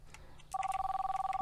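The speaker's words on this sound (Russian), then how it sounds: "Ой, тебе звонит сбрасывай, Алина!" Phone ringing with an incoming call in the video game My Summer Car, a steady electronic warble that starts suddenly and repeats quickly, faint and close over low background noise.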